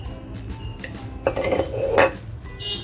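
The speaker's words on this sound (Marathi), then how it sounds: "आणि परत एकदा फिरवून घेते मसाला" A spoon stirs thick masala of homemade chilli powder in a kadai for pomfret curry, giving a few close metallic scrapes and knocks against the pan, loudest in two brief bursts, with no talking.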